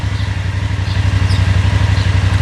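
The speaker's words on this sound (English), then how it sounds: "A motorcycle!" A motorcycle idles or rumbles nearby with a steady low engine note and pulsing throb, continuous and fairly loud throughout, with no talking over it.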